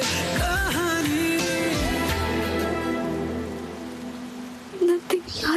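Steady rain pours down as a dense, continuous hiss, heard under music and a singing voice that rise and fade across the passage.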